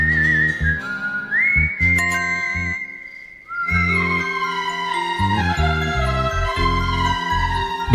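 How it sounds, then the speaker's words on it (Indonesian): A whistled melody with a midnight bell chiming from an Indian film soundtrack, the clear whistling tune gliding between notes over sustained music, with a brief pause before the tune returns. "Lagi-lagi suara nada siulan itu selalu muncul menghantui Pooja. Dan di saat bersamaan lonceng tengah malam berbunyi"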